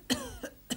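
A person coughs three times in a row during a Turkish TV sitcom scene, each short, loud cough close to the listener and separated by brief pauses.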